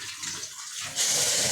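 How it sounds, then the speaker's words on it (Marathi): Hot water poured into a cooking pot for a fasting-day rice dish, a steady splashing pour that grows louder and brighter partway through, with no talk. "थोडं गरम पाणी टाकू"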